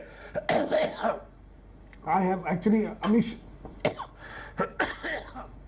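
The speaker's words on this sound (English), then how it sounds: "I'm coughing very badly, so I can't really make my points." Someone speaking is interrupted by a few harsh coughs and throat clearing, close to the microphone.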